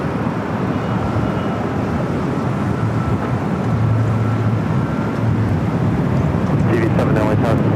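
A Korean Air Boeing 777 taking off at LAX gives a constant broad rumbling roar with a faint steady whine, loud and unbroken throughout, with a few sharp crackles near the end.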